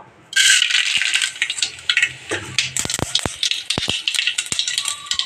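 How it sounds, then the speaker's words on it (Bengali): Mustard seeds splutter and crackle loudly in hot oil in a home kitchen, a burst of dense popping and hissing with sharp seed pops scattered across it. "এই তেলে আমি সর্ষে ফোড়ন দেব।"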